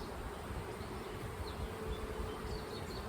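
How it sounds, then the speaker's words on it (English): A thick, steady hum of many honeybees buzzing together nearby in an open hive, unbroken throughout with no speech. "There's many bees in here now"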